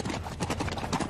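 Horse hooves clip-clop in a steady, close, fairly loud rhythm of repeated strikes throughout the short stretch, with no talking over them.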